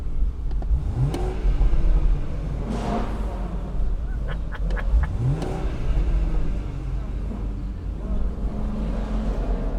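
A loud engine roars and revs repeatedly nearby, rising and falling in pitch over steady vehicle rumble.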